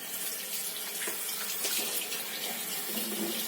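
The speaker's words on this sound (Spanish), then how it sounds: "vamos a abrir la canilla como se debe" Water runs steadily from a sink tap for handwashing before a clinical procedure, a continuous close hiss and splash with no talking.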